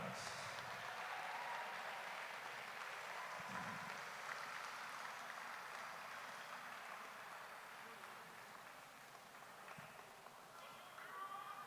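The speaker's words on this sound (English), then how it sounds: "let's give a big round of applause for all of our robots and our squads" An audience applauds robots and squads at a college robotics competition game day, a sustained wash of clapping heard from some distance that slowly thins out.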